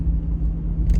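A 2023 Porsche Taycan electric car accelerating hard, its low steady rumble and road noise filling the cabin loudly and continuously throughout, with a brief brighter rush of air near the end and no voices.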